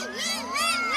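Cartoon crowd shouting in a short burst of high, overlapping voices, loud and close, like excited children yelling all at once.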